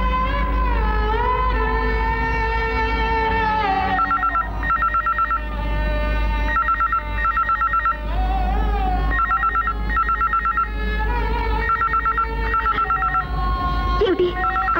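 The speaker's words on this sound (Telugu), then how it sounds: "కాదమ్మా, ఫోన్ మోగుతుందమ్మా." An old-style telephone rings in a house during a Telugu film scene, with repeated bursts of bell tone in a regular pattern over a steady background hum and score.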